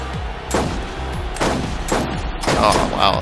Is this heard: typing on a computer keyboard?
no